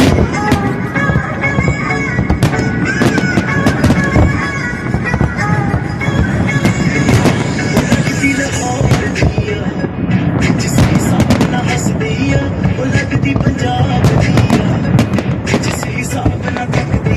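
Fireworks burst over Dubai in a loud, dense, continuous barrage of crackling pops and booms, with crowd voices mixed in throughout.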